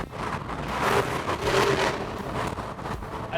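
Exhaust from an open-top Jeep Wrangler or Ford Bronco resonates while driving through an underpass, a loud rumbling roar mixed with rushing wind and road noise that swells in the middle.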